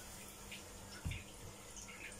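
Tap water running in a kitchen sink while fruit is rinsed, a steady soft hiss of flowing water with a brief louder splash midway, close and quiet, no talking.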